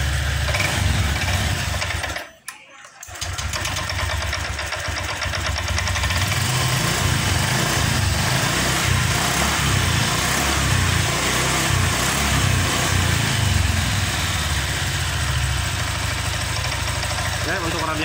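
A car engine idles and is blipped a few times during a radiator leak check, a steady close hum with small surges in pitch and a brief dropout early on, no talk over it.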